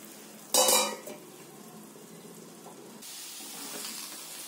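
A pot lid clatters open sharply once over simmering eggplant kuzhambu, then a soft, steady bubbling hiss rises from the pot and continues quietly to the end.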